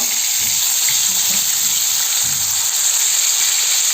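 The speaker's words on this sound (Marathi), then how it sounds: "एक एक वाम अशी सोडायची" Pieces of wam eel fish fry in a pan with a loud, continuous close-up sizzle that holds steady and even from start to finish, with no talking.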